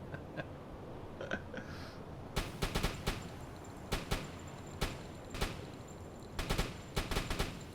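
Submarine deck-gun fire in the video game UBOAT, a series of sharp, fairly loud shots, some single and some in quick bursts, spaced over a low ambient rumble with no talk.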